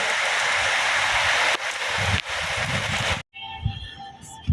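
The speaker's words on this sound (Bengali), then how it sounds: "আমিও বৃষ্টি দেখতে আসছি" Rain falling outdoors as a dense, steady broadband wash, briefly dipping twice before cutting off, then a quieter stretch with faint tonal background sounds.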